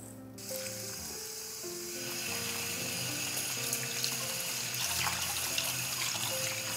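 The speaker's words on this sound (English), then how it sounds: "wash until the water is clear." Running water pours from a tap into a bowl of glutinous rice being washed, a steady close splashing stream with faint stirring underneath.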